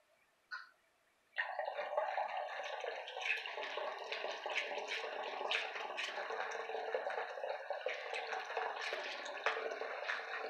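Water pours steadily into a batch of homemade honey mead, a continuous splashing stream close by that starts after a brief knock and runs unbroken to the end.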